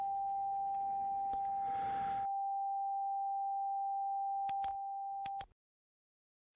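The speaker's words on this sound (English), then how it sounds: "that's what beat frequency sounds like when 2 tones are close in frequency to each other" Two close electronic tones producing a beat frequency: a steady pure tone holds for several seconds, briefly joined by a short burst of noise and a few clicks before cutting off.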